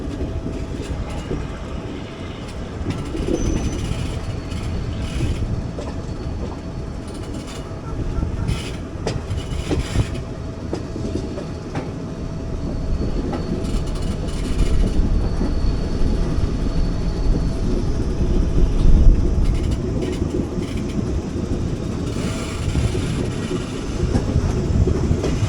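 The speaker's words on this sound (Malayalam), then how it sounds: "ഹൊസൂർ യശ്വന്ത്പൂർ മെമ്മോ ആണത്" Rolling on rails past Hosur, a Hosur–Yesvantpur MEMU train gives a sustained close rumble with repeated wheel clatter and metallic rattling that swells louder toward the end.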